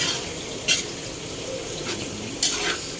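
Bopis being stirred in a frying pan (kawali), a soft steady sizzle broken by two sharp clinks of the spatula against the pan.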